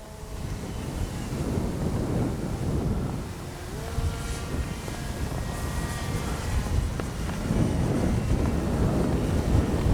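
Steady, loud wind buffeting a microphone outdoors at a model plane flying field, a continuous roar with gusts that swell toward the end.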